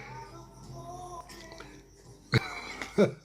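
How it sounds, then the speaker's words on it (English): A person clears their throat a few times, short gruff bursts close to the mic after a stretch of quiet background noise. "Let me clear my throat."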